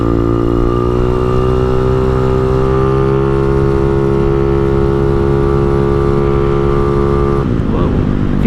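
An engine fitted with a newly installed aftermarket exhaust drones loud and close, its rising rev holding a steady roar before dropping abruptly near the end.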